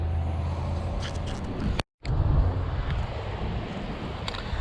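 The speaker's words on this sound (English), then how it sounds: "Got windy all of a sudden." Gusty wind buffets the microphone with a low, blustery roar, briefly cutting out before the rushing noise resumes.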